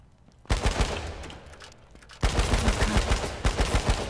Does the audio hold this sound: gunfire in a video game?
yes